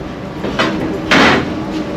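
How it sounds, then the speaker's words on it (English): Heavy steel emergency door on a cruise ship's cove balcony swung shut over the glass balcony door, heard as a couple of close, loud scraping, whooshing sweeps with no talk. "it's got this heavy steel door that in case of emergency they can close over this glass door and lock it in place"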